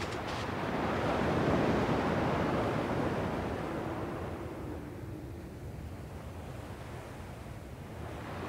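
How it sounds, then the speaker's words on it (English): Ocean waves rolling onto a shore in Kingdom Hearts 2: a soft surf swell builds, peaks and then recedes into a quieter, steady wash, with no voices over it. "At least the waves sound the same."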